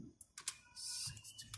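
Keys clatter on a computer keyboard in a short close burst of uneven taps while a folder name is entered, with a brief run of faster strokes near the middle and no talking.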